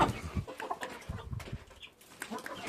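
Four four-month-old hens cluck and one of two roosters calls faintly amid farmyard noise, with brief rustling, moderately close and not very loud.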